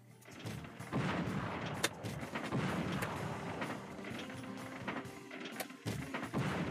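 Gunshots at barrels in the Wild West Rampage table of Pinball FX3 come as a dense run of sharp, rapid bangs and booms over a continuous mechanical game clatter, fairly faint overall.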